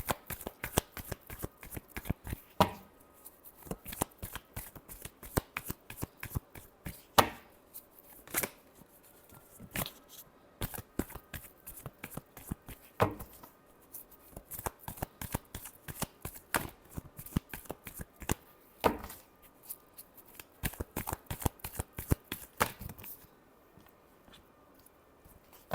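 Tarot cards shuffled by hand in a quiet room during a love reading, a steady run of crisp riffling flutters and soft slaps repeating for most of the stretch, close and fairly faint, pausing briefly near the end.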